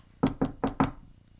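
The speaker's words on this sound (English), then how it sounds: "there was a knock on her bedroom door" Four sharp knocks on a bedroom door, evenly spaced in quick succession, close and clear with nothing else heard.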